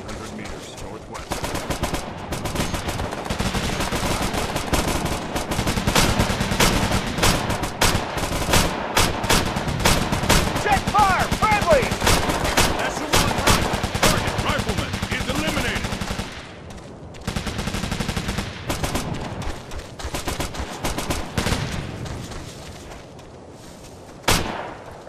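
Rifle and machine-gun fire in the military shooter Operation Flashpoint: Night Fall crackles almost nonstop in dense, loud volleys, easing briefly near the end, with radio-style voices calling out under the shooting.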